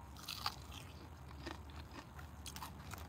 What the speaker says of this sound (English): If y'all don't like eating, munching, crunching, chewing sounds